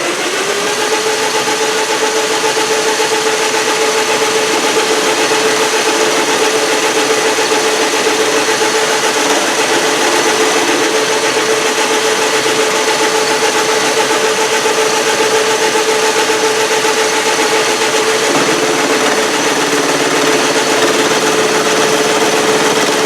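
A steady, loud mechanical drone of a Logan metal lathe boring with a tool bit, with a constant whine and hiss that holds unchanged throughout, no voices.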